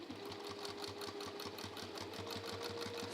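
A sewing machine runs a continuous close top-stitch along a fabric bag, a fast even mechanical rhythm heard up close with no talking.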